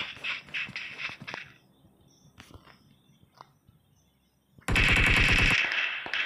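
Rapid automatic gunfire in PUBG on the desert Miramar map, a few scattered shots and bursts at first, then a loud sustained burst of rapid fire near the end.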